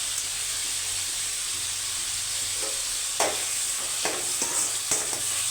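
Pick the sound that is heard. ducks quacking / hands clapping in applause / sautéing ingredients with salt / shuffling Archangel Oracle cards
sautéing ingredients with salt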